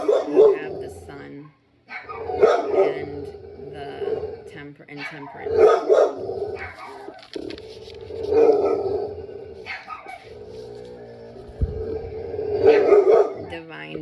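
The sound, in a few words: dog barking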